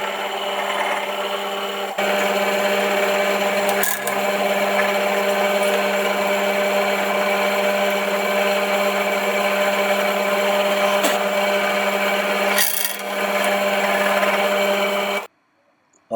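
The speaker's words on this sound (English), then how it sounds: "put it back in the drilling machine and drill the other holes" Drilling machine boring holes through metal in a workshop, a loud steady motor whine with brief pauses in the cut, stopping abruptly at the end.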